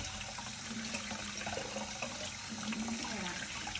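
Cold tap water runs steadily as potatoes are rinsed under it, a continuous close splashing rush with no pauses and no voices.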